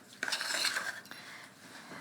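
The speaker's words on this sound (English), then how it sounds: "you just get a common butter knife and run it along the edges of your pans" A common butter knife scraping around the edges of greased, floured cake pans in a home kitchen, giving a short run of close metallic scrapes and clinks, with no talking.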